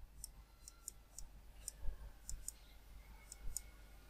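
Computer mouse clicking while building a website in WordPress, a series of about a dozen sharp, faint clicks, some in quick pairs, close to the microphone in a quiet room.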